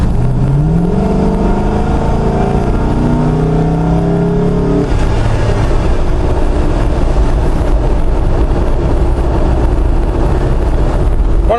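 A Jeep JK with an LS 5.3 engine and 320 gears cruises in sixth gear at just over 1,000 RPM on a 45 mph road, a loud steady low engine drone with road and wind noise, rising tone early then leveling off.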